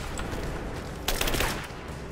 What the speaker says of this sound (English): Laying down covering fire. Oh shit. I'm under fire.